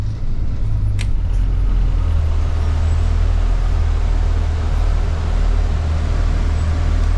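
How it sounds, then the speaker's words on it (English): Bus ventilation fan running on high, a steady broadband rush over a constant low engine hum, loud and close throughout with a brief hiss near the start. "I'm going to set the fan to high."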